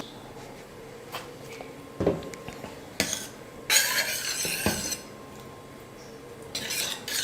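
A spoon stirs salt into a raw mango dal in a metal pot, with scraping strokes and clinks against the pan, close and fairly loud, a few sharper knocks in between.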